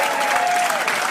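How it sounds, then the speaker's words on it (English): Airport crowd clapping for IShowSpeed on his arrival in Ghana, a short, loud, dense burst of applause with a thin tone sounding briefly within it. "Clap for him."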